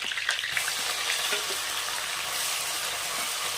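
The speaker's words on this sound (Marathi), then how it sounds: "आता मसाला परतून घ्यायचा आहे कलर चेंज होईपर्यंत" Masala with curry leaves and onions is sautéed in a pan for chana masala, making a steady close sizzle with brief stirring scrapes and no talk.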